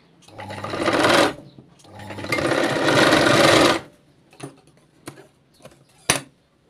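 Sewing machine stitching a katori blouse, two long bursts of steady whirring run close and loud, followed by a few short clicks and taps.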